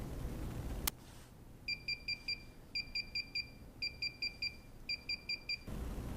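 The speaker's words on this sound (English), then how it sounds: "This is the sound that the controller will make while it is updating." A DJI Inspire drone remote controller beeps during a firmware update: quick bursts of four high electronic beeps repeating in a steady pattern over a quiet hum, after a single click at the start.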